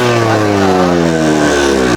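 A modified Yamaha RX-Z two-stroke motorcycle engine running loud and close, with a steady buzzing tone that rises in pitch as it revs up, then cuts off abruptly right at the end.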